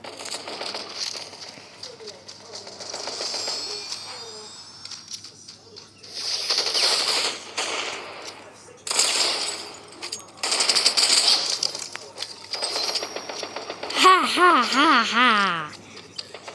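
Pistol shots and other gunfire erupt in bursts during Fortnite play, mixed with game effects and loud, excited talking that runs throughout.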